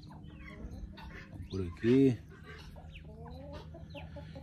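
Farmyard chickens clucking at a small country smallholding, with a few short bursts and one louder, near cackle in the middle, plus softer calls later, while a voice speaks briefly.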